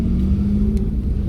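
Steady, close car engine drone from inside a vehicle driven by a beginner, a low continuous hum holding at an even pitch with no clear rise, and no voices over it.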